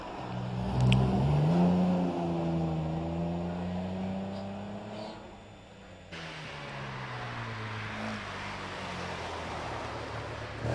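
An MGA sports car pulling away from the start line at a Prescott hillclimb event, its engine revving up in rising strokes near then receding, followed by another engine idling and droning steadily.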